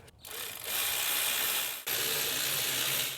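A ratchet snugs the thermostat housing bolts on a Chevy Trax, giving a close, continuous fast clicking buzz that pauses briefly and then resumes for a second run.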